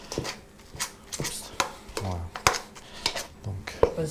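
A spoon crushes soaked bread into crumbs in a bowl for a chicken terrine: irregular clinks and scrapes of metal against the dish repeat at an uneven pace, close by, with occasional soft squishing.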